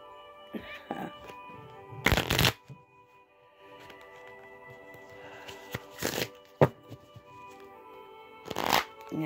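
A handmade deck of cards is shuffled in several quick riffling bursts separated by quieter handling and soft rustles, close and crisp.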